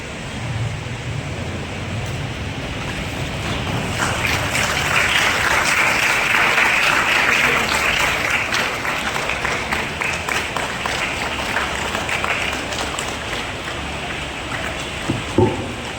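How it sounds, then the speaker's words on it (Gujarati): Sustained applause from a crowd at a school admission ceremony, a steady dense clapping that swells slightly in the middle and carries on for about sixteen seconds with no talk over it. "તાળીઓનો ગડગડાટ થવો જોઈએ મિત્ર"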